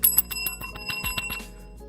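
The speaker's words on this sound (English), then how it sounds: "Let me hit my bell." A bicycle-style bell struck repeatedly at close range, ringing out in a fast series of bright metallic dings that blur into a sustained shimmer.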